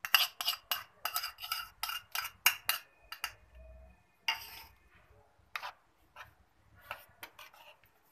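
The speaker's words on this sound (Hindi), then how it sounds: "मसाले को जो दही में डाला है अच्छी तरह से मिक्स कर लेंगे" A spoon stirring spice paste and ginger-garlic paste into yogurt in a bowl, giving rapid, rhythmic metallic scraping clinks up close, followed by a pause and then a few slower, scattered strokes.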